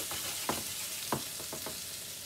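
Cocktail meatballs sizzle gently in a pan on low heat, a steady soft frying hiss with a few faint clicks and stirring knocks, heard close up with no talk.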